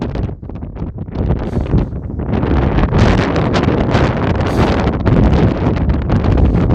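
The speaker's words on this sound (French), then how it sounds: "Ah par contre il y a le vent là, j'espère qu'on va bien entendre." Strong outdoor wind buffets the microphone throughout, a loud continuous rumbling roar with gusts that swell and ease, no voices present.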